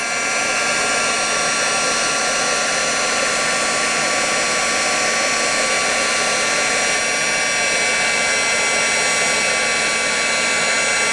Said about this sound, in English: it's starting to melt in there as I come down with the heat tool